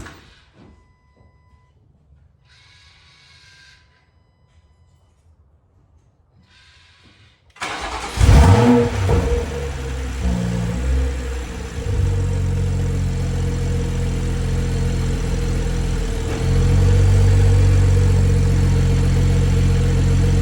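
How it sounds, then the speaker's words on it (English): A BMW B58 engine fitted with a Gen 2 Alibaba exhaust manifold fires up loudly after a quiet stretch, revs sharply, then settles into a steady, rumbling idle close by. "We're gonna go ahead and fire up the car,"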